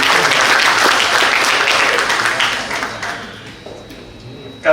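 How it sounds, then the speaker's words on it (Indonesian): An audience at a university lecture for new students claps in a loud burst of applause that tapers off over a few seconds, with some voices mixed in. "tepuk tangan dulu."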